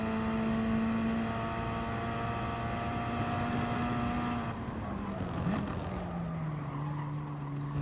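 Gr.4 race cars in Gran Turismo Sport lapping Laguna Seca, engines droning steadily with harmonic whine that holds, then drops in pitch as the car lifts and brakes, another car faintly audible, no voices.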